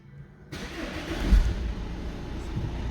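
An Audi Q5 with an AdBlue reductant heater fault starts up, cranking briefly before the engine catches and settles into a steady, close idle.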